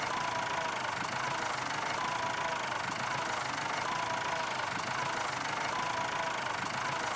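A tractor engine idles in Farming Simulator 22 at a vintage tractor meet, a steady, even mechanical drone with no variation, heard alone without talk.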